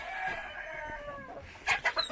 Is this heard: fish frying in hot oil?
no